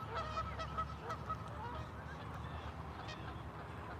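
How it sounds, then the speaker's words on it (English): A flock of geese honks repeatedly over a dense, noisy outdoor background, the calls overlapping and fairly close, heard during a fishing outing with no talk in between. "you don't make any noise like these geese"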